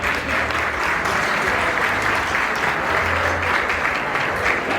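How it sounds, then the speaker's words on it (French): Audience at a community gala evening in Canada applauding, a full, sustained wash of many hands clapping at steady loudness across the whole stretch. "vraiment une main d'applaudissement pour cette soirée"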